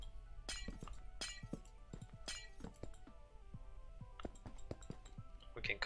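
Minecraft glass blocks shattering and clinking in a quick series of sharp, bright breaking sounds, fairly faint, repeated irregularly over several seconds with no talking.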